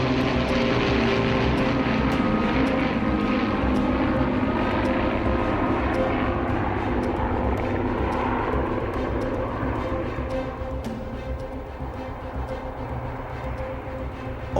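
A Lancaster bomber flies overhead with an escort of Spitfires and Hurricanes, a loud and steady droning roar of piston engines that stays strong throughout and fades slightly toward the end.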